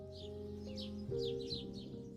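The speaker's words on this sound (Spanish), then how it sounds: "el sonido suave de los pájaros" Soft chirping birdsong in a calm home morning setting, several short bright tweets repeating over a steady low hum, faint and close by.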